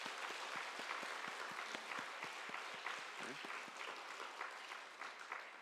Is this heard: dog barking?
no